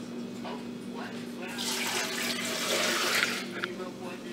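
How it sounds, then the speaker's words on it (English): Water pours into a blender in a short hissing stream for about two seconds, fairly faint, over a low steady hum in a quiet room. "I'm gonna put 2 cups of water."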